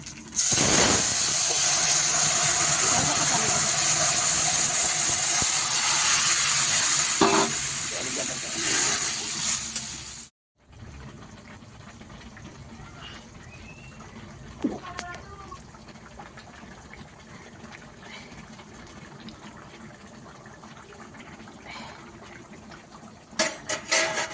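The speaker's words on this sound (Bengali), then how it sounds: "আমি এবার ঝোলটা ঢেলে দেবো" Fish curry broth poured into a hot pan, a loud steady hiss and sizzle for about ten seconds that cuts off abruptly, followed by quieter bubbling and occasional clinks.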